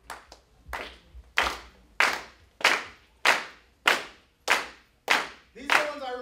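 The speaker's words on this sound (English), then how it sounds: "if you could just clap for me" A multicultural expo audience claps in steady unison, about ten sharp, fairly loud hand claps in an even rhythm, standing in for missing music before a song; the final beat blurs into a faint voice.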